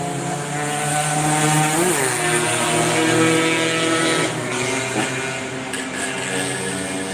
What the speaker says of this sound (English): motorcycles making noise as always